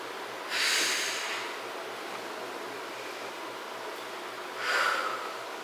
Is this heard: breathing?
yes